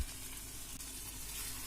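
Sliced pointed gourd fries in a pan with a steady, soft sizzle that carries on without a break, faint and close with no voices.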